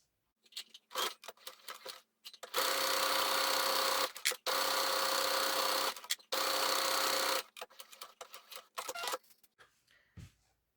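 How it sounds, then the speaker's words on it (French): A sewing machine stitching two fabric pieces placed face to face, 1 cm from the edge, for a rabbit bag: short bursts of whirring, then two long sustained runs of rapid stitching, ending with brief start-stop pulses, close and clear with no voices. "Et je vais coudre à 1 cm du bord"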